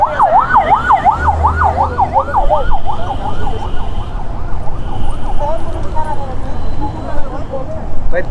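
An emergency vehicle siren wails loudly on an expressway, its rising and falling tone cycling rapidly and steadily before fading slightly, with road traffic noise rumbling underneath throughout.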